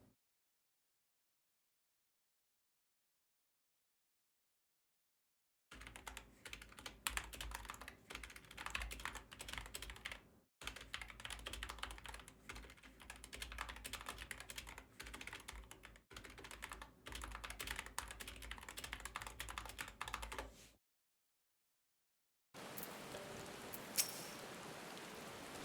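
Rapid computer keyboard typing clatters in dense, continuous bursts during a raid in a gaming room, with short pauses between stretches and silence at the start.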